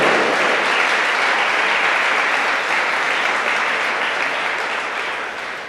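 Sustained, full clapping fills a church service as the congregation applauds together, holding strong before slowly tapering off toward the end.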